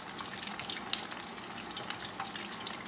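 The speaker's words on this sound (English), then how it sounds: "Allow them to fry" Chicken wings deep frying in hot oil for buffalo ranch wings, a steady, even crackling hiss that carries on without a break, with no talking over it.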